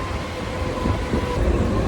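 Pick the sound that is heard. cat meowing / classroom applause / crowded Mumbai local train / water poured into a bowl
crowded Mumbai local train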